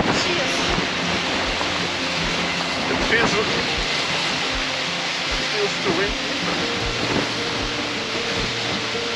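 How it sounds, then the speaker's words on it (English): Steady, loud wind buffets the microphone on a winter day at Playa de Troya beach in Tenerife, Spain, a broad continuous roar that rises and falls slightly with low rumbling gusts throughout. "It feels too windy."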